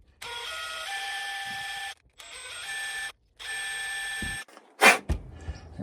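A rusty bolt spun in a drill chuck, cleaning its rusty threads: three steady whirring runs of a small motor, separated by brief pauses, followed by a couple of short louder clatters near the end, with no talking.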